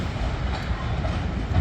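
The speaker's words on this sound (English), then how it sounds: "As one of my favourite trains leaves," A passenger train pulls out of Manchester Piccadilly station with a steady low rumble and rolling wheel noise, fairly close and growing slightly louder at the end.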